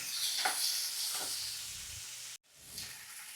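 Chopped tomato and green chilli sautéing in oil for a prawn gravy give a soft, steady hiss and sizzle with light stirring. The sound cuts out briefly, then the quiet frying resumes.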